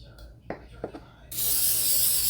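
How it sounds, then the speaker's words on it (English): Cooking spray hisses loudly and steadily into a meatloaf pan, a sustained close spray starting after a few soft handling sounds. "And I'm going to spray this down"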